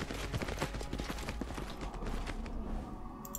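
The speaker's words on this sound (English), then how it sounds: "Hey, horsey." Horse hooves clip-clop steadily in a video game, a quick, fairly close rhythm of hoof strikes running through a busy background of other game sounds.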